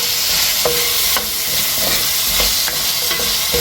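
Half-fried apritada with firm carrot pieces is stirred in a frying pan, giving a loud, steady sizzle with repeated scraping strokes of the spoon throughout.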